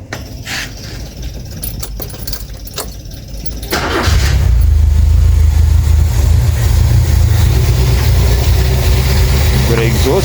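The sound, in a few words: Renault 5 engine starting and idling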